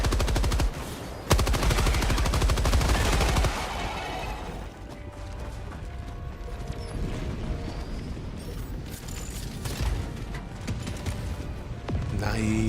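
Shooting on foot in Star Citizen produces a dense, loud stream of rapid automatic gunfire at the start, followed by ongoing mechanical clatter, scattered shots and background game noise.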